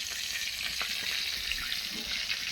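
Hilsa with mustard in hot oil sizzles in a pan over a wood fire, a continuous soft frying hiss with faint crackles and small pops.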